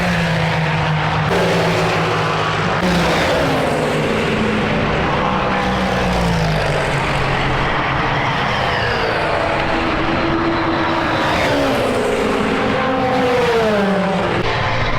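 Race cars howl through the 6 Hours of Fuji endurance race near its end, a loud continuous engine roar whose pitch rises and falls as cars pass, with no pauses over the whole stretch.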